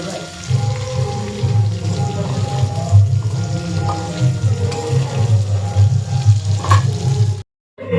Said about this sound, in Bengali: পটলটা ভাজতে একটু সময় লাগে